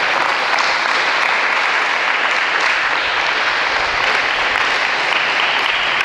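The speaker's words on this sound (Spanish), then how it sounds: "¿Por qué no le damos un aplauso al Señor?" A congregation at a Wednesday evening church service gives a loud, sustained round of applause to the Lord, the dense clapping continuing evenly without a break.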